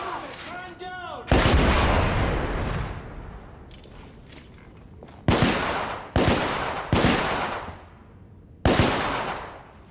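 Firefight in the video game The Order: 1886, with a distant rattle at the start, then a heavy gunshot followed by four more booming blasts, each with a long rolling echo, spaced a second or two apart.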